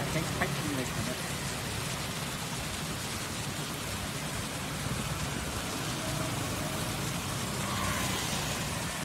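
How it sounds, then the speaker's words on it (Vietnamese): Steady rain falls across a city street in central Ho Chi Minh City, a dense, even wash of patter with faint traffic rumble beneath, continuous and close throughout. "bây giờ trời đang mưa"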